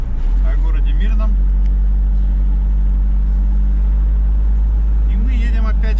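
Car driving through the town of Mirny, a steady low engine rumble and road roar heard from inside the vehicle, with a voice talking briefly over it at the start and end.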